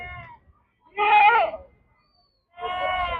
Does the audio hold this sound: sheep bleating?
yes